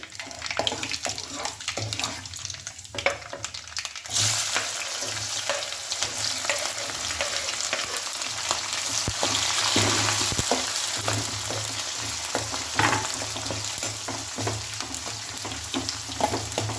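Onions, two medium-sized, frying in oil in a pan, a steady broad sizzle running throughout with scattered scrapes and stirring clatter, swelling louder midway, no talking.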